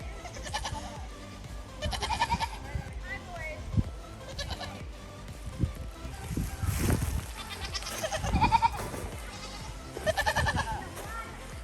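Goats bleat repeatedly around a yard on an off-grid Alaskan homestead, their wavering cries coming close and fairly loud, mixed with shuffling and thumps.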